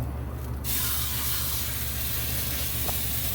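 Beef searing in a hot oiled skillet, a steady loud sizzle and hiss that swells just after the meat goes in and holds evenly throughout, with no talking.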